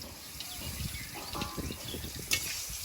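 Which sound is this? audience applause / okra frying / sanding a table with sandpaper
okra frying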